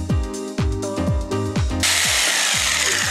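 A jigsaw chatters through wood in quick rhythmic strokes while building a dry toilet, then the cutting noise turns into a bright, continuous rasp near the end.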